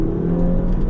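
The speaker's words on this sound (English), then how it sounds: "So now this is gonna be me driving the car with everything assembled and as it should be" A modified Volkswagen GTI accelerating on the road, with a close, steady engine hum and a whirring drone that holds at a loud level through the brief moment.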